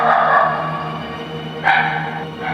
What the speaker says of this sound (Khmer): សំឡេងឆ្កែលូពីចម្ងាយបន្លឺឡើងតគ្នា